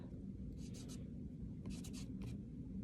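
Short scratchy strokes of a tool writing letters into soft clay come in a few quick bursts over a low steady background hum.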